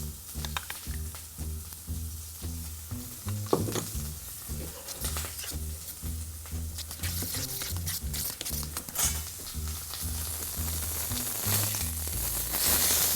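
Veal sears in a hot frying pan with a steady close sizzle and crackle, occasional sharper spits and stirring scrapes, rising slightly toward the end, no voices.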